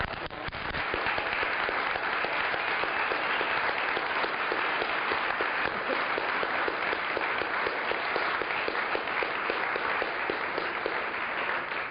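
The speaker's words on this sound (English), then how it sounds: "please stand up and we'll all give you a clap" Applause from an audience at an SGI centre gathering, steady dense clapping that starts abruptly and holds at an even level for the whole stretch, sounding close and full.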